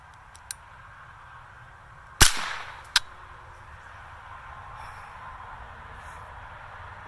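Gunshots fired into drywall: a sharp loud crack, a fainter snap soon after, and a small tick earlier, each standing alone over low room noise.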